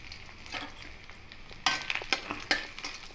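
Panch phoron, bay leaves and split dried chillies sizzle in hot oil for a lentil-and-bottle-gourd dal, a steady close crackle that jumps louder midway with sharp spattering bursts and stirring clinks.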